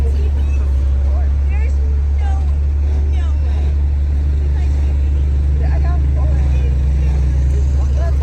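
A tow truck carries a wrecked 2JZ-swapped Camaro away from a race track, with a loud, steady low engine drone and road rumble throughout and people talking faintly over it.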